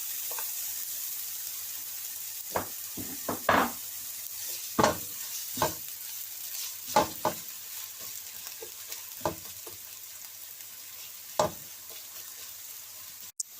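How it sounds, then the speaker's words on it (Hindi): Onions frying in hot oil in a pan for chicken tikka masala, a continuous crackling sizzle with repeated sharp scraping and stirring strokes spaced every second or two, close and clear with no talking. "ऑयल गर्म हो गया है, ओनियन डाल देते हैं।"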